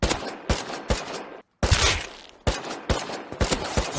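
Gunfire in the survival video game Rust, a series of sharp, loud shots in an uneven rhythm with one brief silent gap, no talk.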